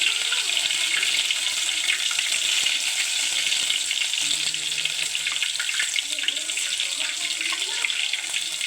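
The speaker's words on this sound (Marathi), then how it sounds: "बघा तेल गरम झाला आता मी त्याच्यामध्ये मिरची हिरवी मिरची टाकते" Green chillies fry in hot oil with a continuous, bright, loud sizzle and spatter that holds steady throughout, with faint clinks underneath.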